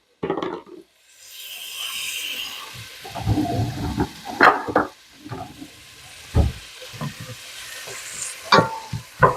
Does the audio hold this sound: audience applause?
no